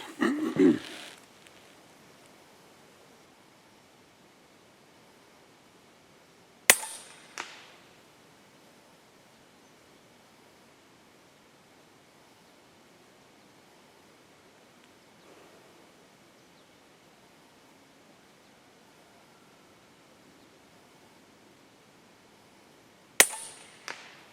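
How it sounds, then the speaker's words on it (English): A gun is fired during an accuracy test for a K1 with a version 2 mold, three widely spaced sharp cracks over a quiet background. One shot comes at the start, one near seven seconds and one at the end. "I'm going to try to not shoot too fast for accuracy reasons."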